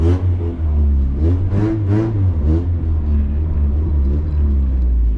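Honda Integra engine running steadily as the car is driven, a loud continuous low rumble with several rising revs in the first three seconds and no talking.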